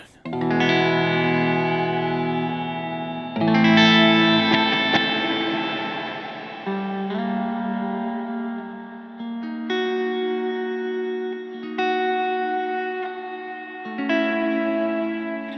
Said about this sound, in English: you can hear it's a very clean, wide reverb